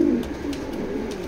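A pair of chocolate grizzle pigeons cooing close by, low soft murmuring coos running steadily through the short stretch with a faint background hum.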